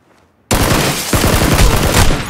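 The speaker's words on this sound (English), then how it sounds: "he's got a double barrel shotgun" A double barrel shotgun firing in the PUBG video game, a sudden loud blast that cuts in from near silence and rolls into sustained dense gunfire with a second burst partway through.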